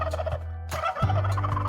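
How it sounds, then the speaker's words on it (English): A turkey gobbles in two loud, close, rapid rattling bursts, heard alone with no talking. "Here's a turkey. They say gobble, gobble."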